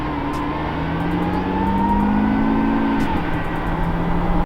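Lamborghini Aventador V12 engine revving, a loud, sustained, rising and falling engine note heard up close with no talk over it.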